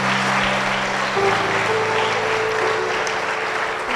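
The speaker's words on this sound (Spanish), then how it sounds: "Vamos a darle palmas a Jesús." Church congregation clapping together for Jesus during a Spanish-language worship service, a dense continuous wash of hands with steady organ or keyboard chords sustained underneath throughout.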